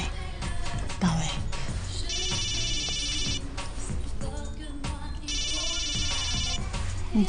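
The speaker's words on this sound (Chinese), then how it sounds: "你电话响了。" A mobile phone ringtone plays in two bursts of bright, repeating electronic tones, fairly loud and close, with indoor room noise between the rings.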